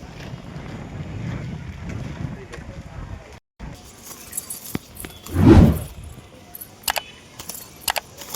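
Strong wind blows outdoors on a rooftop where pigeons fly overhead, buffeting the microphone in rough, uneven gusts with one loud surge midway, while someone speaks over it.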